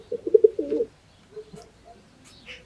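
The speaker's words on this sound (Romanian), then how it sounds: "Un porumbel deosebit." A racing pigeon coos close by in a short throaty burst of low rolling notes, followed by faint scattered chirps and rustles.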